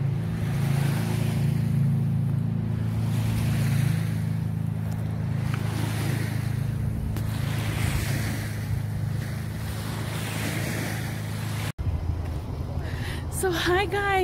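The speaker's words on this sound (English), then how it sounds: "May mga nagbo-boating pala dito." Outdoors on a river at the Chilliwack dike, boats pass while steady wind buffets the microphone and water washes nearby, with people talking throughout and a sudden click near the end.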